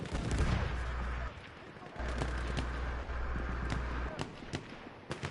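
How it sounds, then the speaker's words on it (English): Rockets fired back and forth between buildings in a team video game battle, booming launches and blasts with sharp cracks scattered through, moderately loud, some at a distance. "Just rockets to and fro."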